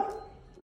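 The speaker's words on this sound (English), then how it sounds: "dog!" A dog gives a single short, muffled bark or yelp, faint and lasting well under a second before cutting off.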